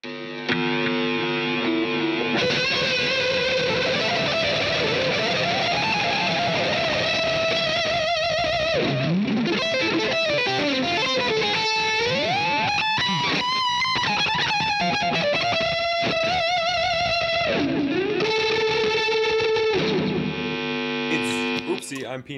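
Sustained electric guitar lead through a CTC Sidekick Jr. pedal, with sliding, bending notes, washed in delay and reverb echoes over a steady hum, loud and continuous throughout.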